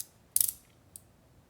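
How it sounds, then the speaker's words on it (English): A tiny Vibe EDC fidget slider clicks in a quick cluster of crisp, close mechanical snaps, followed by a single fainter click a moment later, with no voices. "This is the world's tiniest functional slider, I think."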